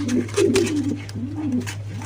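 Racing pigeons coo in low, rolling murmurs, close by, with a steady hum in the background.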